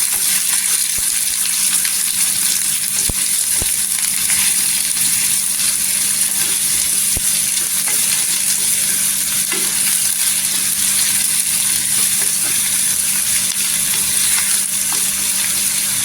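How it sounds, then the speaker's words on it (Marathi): Two to three chopped onions sizzle and fry steadily in a pan until golden, a continuous close crackle with occasional stirring clinks and no talk. "इथे कांदा पण छान असा गोल्डन कलर करून घ्यायचा"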